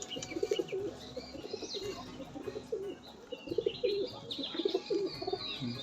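High-flying pigeons coo repeatedly in throaty, rolling phrases at close range, with higher chirps and faint wing flutters mixed in.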